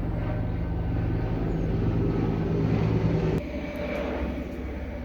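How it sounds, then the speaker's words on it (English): Helicopters drone overhead in a steady continuous rumble outdoors, heard alone; the level drops slightly partway through. "I wish these helicopters would off."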